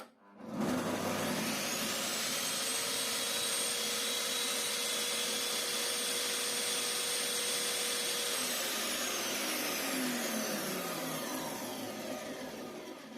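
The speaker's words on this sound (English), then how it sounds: "now I'm going to start the machine" A Bosch GTS 635 table saw starts up and runs. Its motor rises quickly to a loud, steady whirring hum with a faint high whine, holds for over ten seconds, then begins to ease off near the end.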